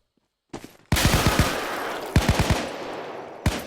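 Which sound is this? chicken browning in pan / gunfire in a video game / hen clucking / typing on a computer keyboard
gunfire in a video game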